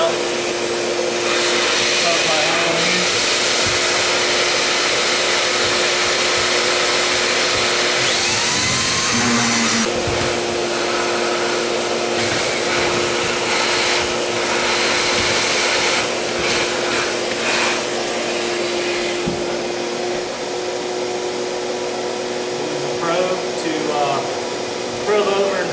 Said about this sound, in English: drilling our 2-inch holes in each cavity so that we can properly insulate it